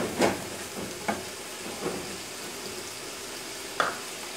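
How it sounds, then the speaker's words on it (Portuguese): Caramelized onion browning in a pan, with a quiet, steady sizzle broken by a few soft stirring knocks and scrapes. "Dourei aqui a cebola"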